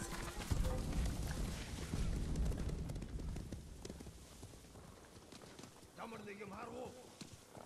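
Rapid, rumbling horse hoofbeats at a gallop in Ghost of Tsushima, mixed with a voice talking over the action.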